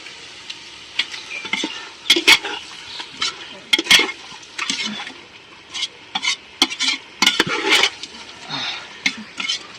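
Ginger garlic paste sautéing in a pan for chicken biryani, a low sizzle under repeated scraping stir strokes and spoon clinks against the pan, close and fairly loud with irregular bursts throughout.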